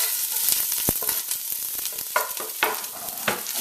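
Scallions, onion, garlic and Caribbean pimento seasoning peppers sizzle steadily in a soup pot, with a few sharp clicks and scrapes from stirring over the frying hiss and no talking.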